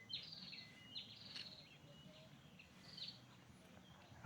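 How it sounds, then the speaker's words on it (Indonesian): Birds chirp in the green, leafy surroundings of a lakeside tourist spot, with short, faint, high calls scattered over a soft background hum. "Suara burung."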